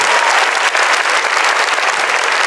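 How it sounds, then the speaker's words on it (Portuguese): A church congregation breaks into loud, sustained applause, many hands clapping together in a dense, even roar with no talking over it. "Então vamos aplaudir mesmo, para valer."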